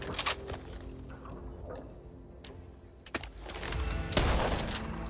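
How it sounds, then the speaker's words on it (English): A Super 90 semi-automatic shotgun fired in the video game Back 4 Blood, a few sharp, loud blasts spaced irregularly over a busy game-audio background with no talking. "So the super 90 is semi-auto. Basically you can shoot it as fast as you can click"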